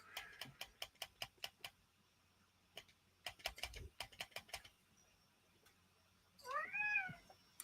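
A pet cat gives a short, rising meow at the end, after bursts of rapid keyboard typing nearby in a quiet room.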